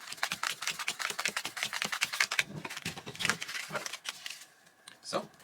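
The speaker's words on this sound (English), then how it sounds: "Shuffle the deck" A deck of cards for a Disney-themed board game is shuffled, giving a rapid flurry of crisp riffling clicks and flicks close by, easing off toward the end.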